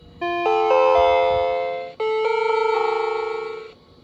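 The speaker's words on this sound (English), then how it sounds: "I'm gonna leave it on the simple beep and turn the volume down" A PowerBook 180 'simple beep' alert sounds twice, each a clear electronic chime of layered tones that steps up in pitch, loud and close, with quiet between them.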